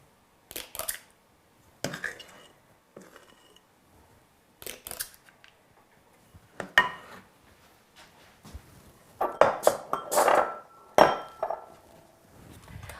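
A spatula scrapes the last muffin batter from a mixing bowl in short, irregular clinks and scrapes, some sparse, then a denser burst of scraping near the end.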